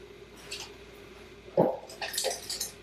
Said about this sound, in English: Now we're going to pour it in to our Obgoosht.